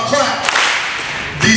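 An audience at a 75th anniversary event honoring a WNBA star bursts into about a second of steady clapping, close and fairly loud, with a voice speaking before and after.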